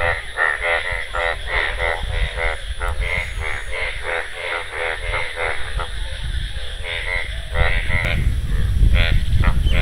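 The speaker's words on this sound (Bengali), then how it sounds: "আর ব্যাঙের ডাকটা কিন্তু খুব ভালো লাগে" Frogs croak in a village pond flooded after rain, a dense chorus of rapid, rattling calls repeating steadily close by, with crow-like caws mixed in and a low background rumble.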